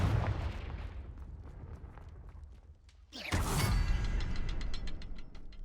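A Confringo fire spell blast in the video game Hogwarts Legacy: a sudden loud whooshing burst roughly midway, followed by a sustained rumbling crackle that fades slowly.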